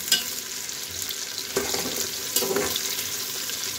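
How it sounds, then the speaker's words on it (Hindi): Onions and beef brown in a frying pan for a tinda gosht dish, a soft steady sizzle with a few faint stirring scrapes, heard close and alone. "इसको थोड़ा सा ब्राउन करना है, प्याज को लाइट सा"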